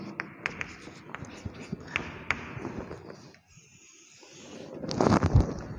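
Chalk or marker strokes on a classroom board during a chemistry lesson on coordination compounds, a run of short taps and scratchy strokes close by, quieter for a moment before a louder burst of writing near the end.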